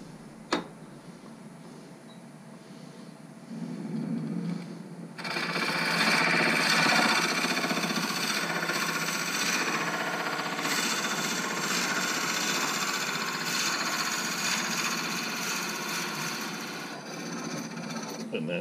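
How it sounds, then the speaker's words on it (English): Forstner bit drilling into a turned wood pepper-mill blank on a lathe, a sudden loud, steady grinding roar that holds for over ten seconds after a quieter motor hum. "So I'm marking 7/16 on my Forstner bit so I know I don't over drill it."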